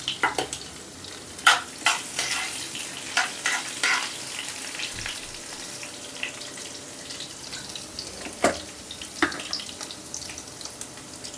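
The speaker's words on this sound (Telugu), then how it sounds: "ఇప్పుడు ఇందులోనే ఒక 5 వెల్లుల్లి రెబ్బలు కూడా వేసుకుందాం." Urad dal, mustard seeds, cumin and garlic sizzle in hot oil for a gongura dal tempering, a low steady crackle with sharp spoon clinks and stirring scrapes scattered throughout, close up and fairly quiet.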